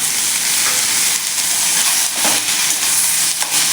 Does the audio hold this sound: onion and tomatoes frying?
yes